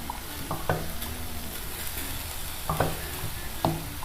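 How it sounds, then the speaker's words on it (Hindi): Minced meat frying in a pan with chopped tomato and onion, a steady sizzle broken by a few scraping stirs of a spoon against the pan, close and moderately loud. "ये थोड़ी देर हम इसे पकाते हैं ताकि ये हमारा कीमा, टमाटर और प्याज तीनों जो हैं ये थोड़े सॉफ्ट हो जाएं।"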